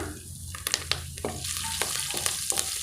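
Asafoetida and curry leaves fry in a pan with a steady close sizzle, broken by several sharp crackles and pops as they hit hot oil; no talking.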